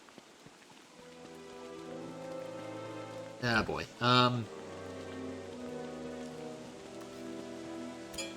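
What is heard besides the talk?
rain falling in the video game Don't Starve Together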